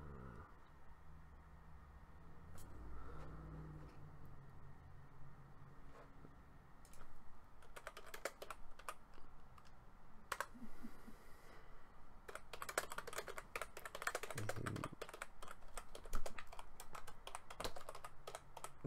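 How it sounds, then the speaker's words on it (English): Computer keyboard keys clack in quick irregular bursts of typing, sparse at first and then denser and louder, close to the microphone with no talking, during a card game livestream. "if my keyboard clacking gets really, really loud, just let me know"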